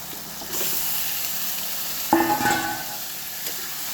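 Chicken pieces dropped into hot oil in a pan with garlic and ginger, a steady hiss that bursts into a louder crackling sizzle partway through, then settles.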